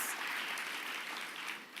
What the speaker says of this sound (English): yes, it deserves applause